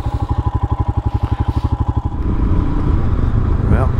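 A vehicle engine runs at about 1600 RPM, starting as a close, even, rhythmic throb for two seconds, then turning into a louder, rougher, broadband rumble.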